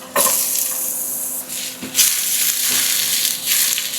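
Garlic and onion fry in a pan with a crackling sizzle, punctuated by a few louder bursts as the pan is stirred, close and with no talking.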